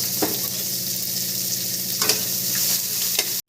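Onion and garlic frying in hot oil with dried red chilli and bay leaf for a Bengali fish and vegetable dish, a dense, steady sizzle close to the pan with a few light stirring taps, cutting off abruptly at the end.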